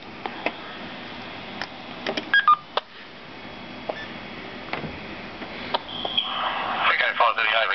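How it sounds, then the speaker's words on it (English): Short tones and beeps from a telephone interface while linking into an AllStar node, isolated clicks and a brief tonal burst over a faint hiss. "I'll link in to the AllStar node using the telephone interface"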